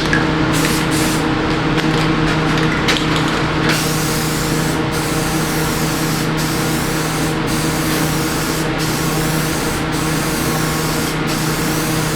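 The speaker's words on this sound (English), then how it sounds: "Here's a second coat of my gloss clear." A spray gun lays a second coat of gloss clear on a restored century-old safe, a loud continuous hiss of spraying with brief pauses and short bursts as the trigger is released and pulled again.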